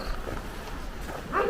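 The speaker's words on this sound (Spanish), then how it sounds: "Y ya los perros ya nos están ahí esperando." Dogs bark in an abandoned village in Mexico: a short bark rises near the end over a steady, noisy outdoor background.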